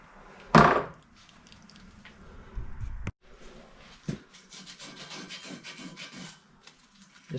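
A tool scrapes rust from a front axle part of a Ford F-250 in short rasping strokes, beginning with a sharp knock, then a sharp click, followed by a run of gritty scraping, up close with no talk.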